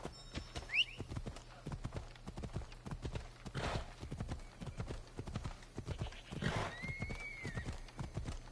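A horse trots along with steady clip-clop hooves and neighs twice in Assassin's Creed Odyssey, heard alone at moderate volume with a few faint whistling game sounds.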